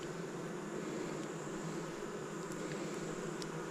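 Honeybees buzz around a new hive, a faint, even, continuous droning hum with no pauses and no voices.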